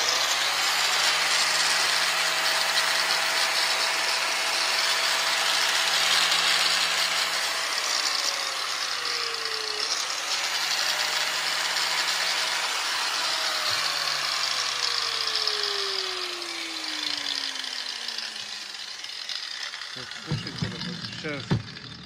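Hitachi power tool running steadily with a whining motor hum that rises and falls in pitch under a loud hiss of noise, near and continuous, ending with a few clunks; a person speaks over it.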